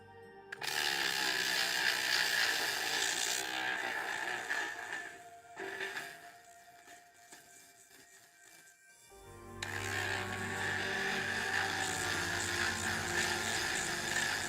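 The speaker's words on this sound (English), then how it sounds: "Can you guys even hear the Dremel?" A Dremel rotary tool grinds dungeon tiles with a steady high whine that runs loud for several seconds, dips and wavers in the middle, then returns at full strength.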